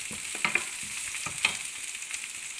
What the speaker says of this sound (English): So the onion goes in first there, fry the onion a bit.